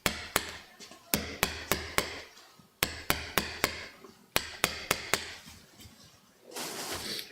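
A hammer bangs in close, loud, sharp blows, landing in quick bursts of four or five strikes separated by short pauses, with a scraping rustle at the end and no one speaking.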